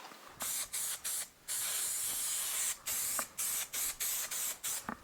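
Spray adhesive hisses from a can onto chair upholstery in a series of short bursts, about a dozen quick sprays separated by brief pauses, close and fairly quiet.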